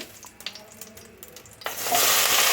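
Mushrooms, potato, onion, garlic, ginger and ground cumin and coriander dropped into hot oil with spices, a few light clatters and then a sudden loud burst of sizzling that holds steady and close.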